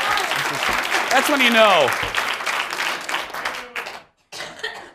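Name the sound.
audience applause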